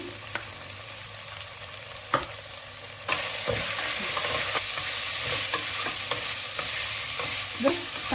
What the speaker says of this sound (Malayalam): പച്ചമണം മാറുന്നത് വരെ നന്നായിട്ടൊന്ന് വഴറ്റിയെടുക്കാം